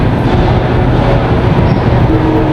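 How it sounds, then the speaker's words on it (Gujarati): A passenger train pulls out of a railway station, heard from on board as a loud, steady, rumbling roar without pauses. "ફાઇનલી આપણો ટ્રેન ઉપડી ગઈ"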